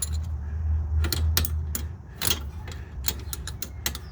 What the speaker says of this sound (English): ratchet it down